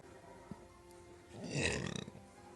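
A single faint burp from a woman, a short throaty rumble that swells and crackles briefly in the middle of a quiet room.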